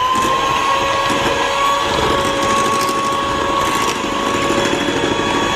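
An electric mixer whips soft butter with sugar for banana bread, a loud continuous motor whine with a steady high tone and gritty churning underneath, close and unbroken, with no talking.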